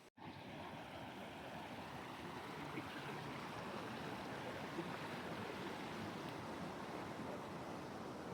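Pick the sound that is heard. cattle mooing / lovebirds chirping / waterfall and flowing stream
waterfall and flowing stream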